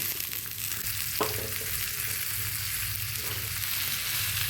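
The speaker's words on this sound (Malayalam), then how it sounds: "ഇതിലേക്ക് നമ്മൾ അരിഞ്ഞു വെച്ചിരിക്കുന്ന പയറിട്ട് കൊടുക്കാം" Chopped green beans hit hot oil with turmeric for a Kerala stir-fry, giving a strong, steady close-up sizzle with a couple of stirring scrapes and faint music underneath.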